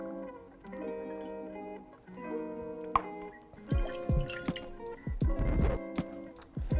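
Tempus Fugit banana liqueur is poured into a cocktail, with a quiet trickle, drips and glassy clinks of bar tools and a glass close by, followed by louder clinks and clatter.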